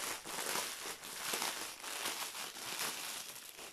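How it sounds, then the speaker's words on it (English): Small plastic bags of diamond painting drills crinkle close by in a quiet, continuous rustle. The sound is soft and uneven, with no talking. "and I'm crinkling."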